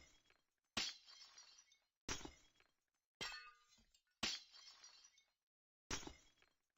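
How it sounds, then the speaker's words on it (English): Five separate low-pitched glass breaking effects from a Minecraft mod, each a sharp crash decaying into scattered tinkling shards, played alone with short silent gaps between them. "Low pitch glass break."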